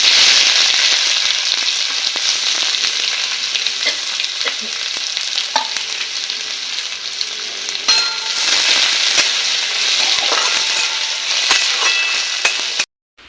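Dried chillies, whole cumin and garlic sizzling in hot oil in a kadai, a loud continuous crackling hiss with occasional pops and stirring scrapes, close up and alone, cutting off sharply at the end.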